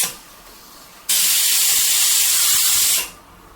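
A pressure cooker cooking chicken biryani vents steam with a sudden, loud, steady hissing whistle that lasts about two seconds and then cuts off, leaving only quiet room noise.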